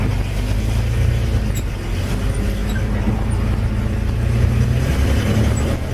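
A 1961 GMC 5000 truck rolls along the road after a truck show, its engine a steady low rumble heard from the cab, continuous and fairly loud with no speech.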